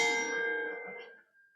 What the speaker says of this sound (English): Remember our bell got stolen? So this is our stand-in bell.